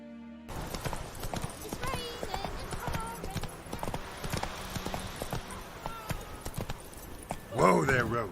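Horse hooves clip-clopping in The Witcher 3 video game, a steady close trot of hoofbeats under in-game dialogue and music, ending with a louder snort or whinny as the horse is halted.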